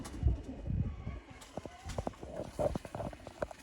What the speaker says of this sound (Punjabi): ਅਸਲ ਮਾਨਿਆਂ 'ਚ ਦੋਸਤੋ ਨਾਯਾਬ ਸਿਆਲਕੋਟੀ ਕਬੂਤਰ